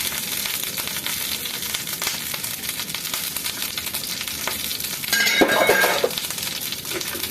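Small coconut pieces frying in ghee for a sweet pongal, a steady close sizzle with a brief louder burst of crackling partway through.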